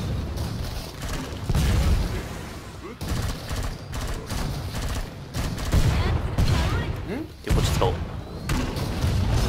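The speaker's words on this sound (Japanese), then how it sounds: "発狂しちゃってるし、撃ちまくるよ。" Rapid bursts of gunfire and thudding impacts from Killing Floor 2 combat, loud and near, recurring in clusters across the stretch, mixed with in-game noise and voices.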